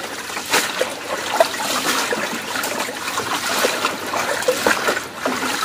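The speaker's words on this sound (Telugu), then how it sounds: "ఆకు పైపైన కడుగుదాంలే సపరేట్గా" Leaves being washed by hand in water, with irregular splashes, swishes and trickles rising and falling close by, no voices.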